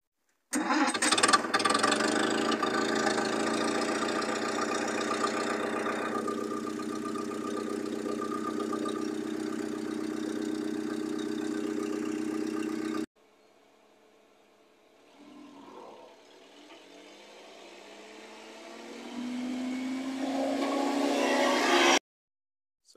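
A restored 1946 British Conveyancer forklift engine cranks, catches and runs loud and steady for several seconds, then cuts out, followed by a quieter stretch and another rising run of the engine.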